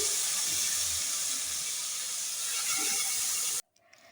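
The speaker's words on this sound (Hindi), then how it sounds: "बहुत अच्छा सा तड़का यहाँ पर लग रहा है" Tempering spices for kadhi sizzle in hot oil, a loud steady hiss filling the kitchen for several seconds before cutting off abruptly into quiet.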